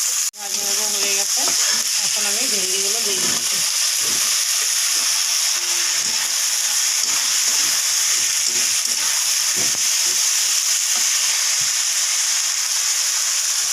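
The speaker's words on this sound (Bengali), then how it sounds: "এখন আলুগুলো হালকা ভেজে নেব" Potatoes fry in hot oil in a pan with a loud, continuous hiss and crackle that fills the whole stretch, broken by occasional scrapes and stirs, with a brief voice near the start.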